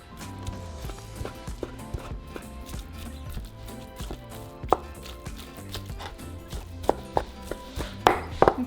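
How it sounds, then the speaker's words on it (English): Tender slow-cooked crockpot birria beef being chopped on a board, a steady run of knife thuds with a few sharper louder strikes near the end, close and clear with no talk. "so I'm just going to chop it like that"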